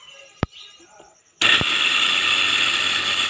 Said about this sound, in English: here, we will put it first on the grinder